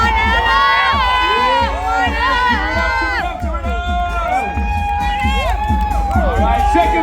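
A loud crowd cheers, whoops and shouts at a pho eating contest at a night market, dense and continuous with many voices yelling over each other, close and sustained throughout.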